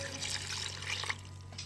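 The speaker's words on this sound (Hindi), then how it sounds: "अब मैं इसमें डाल दूँगी 1 गिलास पानी," A glass of water is poured into a pot of kachnar qeema, a soft, steady trickle and splash running for under two seconds over a low background hum.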